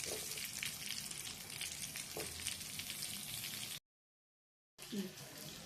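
Pointed gourd with potatoes frying in goat fat, a soft, continuous sizzle with light stirring, interrupted by a second of silence before resuming.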